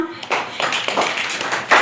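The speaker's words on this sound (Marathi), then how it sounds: "टाळ्या वाजवा." Classroom students clapping in a short burst of scattered hand claps, fairly close, lasting under two seconds and ending in a louder clap.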